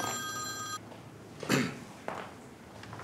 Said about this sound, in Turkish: Çok telefon geliyor.